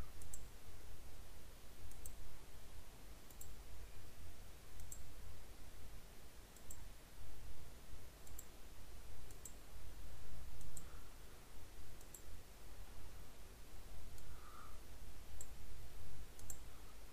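Light computer mouse clicks while picking a gradient colour stop in Microsoft Word, a steady series of faint, evenly spaced clicks about every second over a hissy background.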